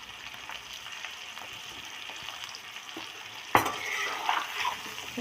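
Dried chillies and garlic frying in oil for an olive pickle, a steady soft sizzle with light stirring scrapes, then a sharper burst of crackling as more is stirred in, close and alone with no talk.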